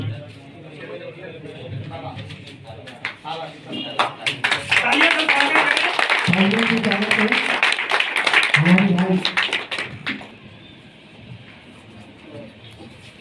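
A crowd claps through a certificate presentation at a Bharatiya Kalakar Sangh artists' association gathering in Kunkuri, Jashpur, Chhattisgarh. The applause swells into dense, steady clapping for several seconds and then fades, with voices and talking mixed underneath.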